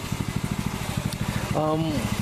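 A water-seized 6.5HP Honda clone engine idles with a fast, even, throbbing putter close by, and someone talks over it near the end.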